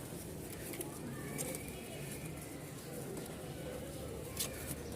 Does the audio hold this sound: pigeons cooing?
yes